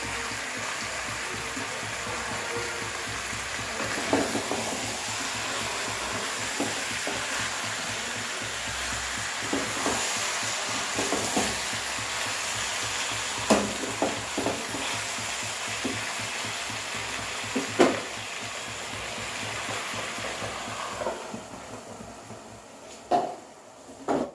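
Chicken do pyaza cooks in a pan over a low gas flame, a soft steady sizzle broken by repeated scrapes and knocks of a spoon stirring, growing sparser toward the end.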